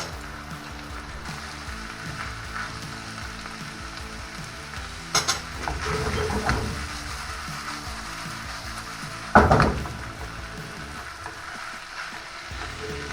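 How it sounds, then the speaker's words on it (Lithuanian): Buckwheat with ham sizzles and fries in a pan, a steady crackle running throughout, with a couple of louder scraping bursts as the mix is stirred. "Nu, dabar kepam."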